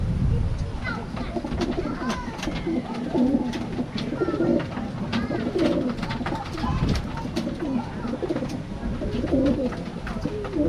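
Racing pigeons cooing at a loft during a Gumaca, Quezon race season, a dense flock chorus of soft overlapping coos and wing flutters, close and continuous.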